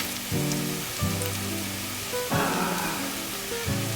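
Tomato paste sautéing in a hot pan for roasted tomato soup, a steady close sizzle with soft crackling and a few clinks of the utensil scraping the pan, with no voice.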